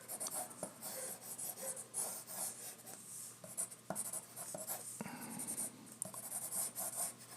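Pencil scratching and rubbing across paper while sketching a figure's fists as pentagon-like shapes, a steady close dry scraping with short strokes and brief pauses throughout.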